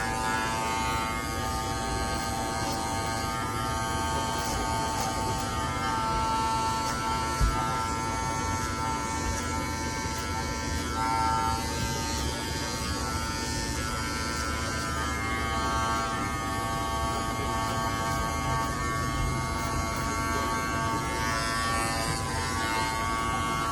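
Electric hair clippers with no guard trim a man's hair around his dreads, giving a steady, close, loud buzz that runs unbroken throughout.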